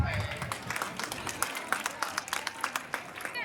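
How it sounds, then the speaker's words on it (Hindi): Audience applause at a ceremony at Gayatri Vidyapeeth gurukul school, moderately faint, with scattered individual claps growing into a steady rhythmic patter, a voice audible at the very start. "एक बार तालियों के साथ"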